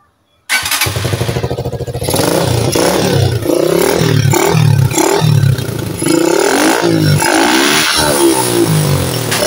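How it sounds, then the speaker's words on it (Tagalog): Honda TMX 125 Alpha motorcycle engine, recently fixed after a waterlogged air cleaner, starts and revs hard at high RPM; loud, close single-cylinder roar with repeated throttle blips rising and falling, running smoothly without sputtering, no talk. "So okay na yung motor, no. So nag high RPM na siya at hindi na nagpugak-pugak."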